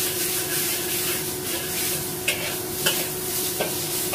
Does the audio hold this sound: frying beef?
yes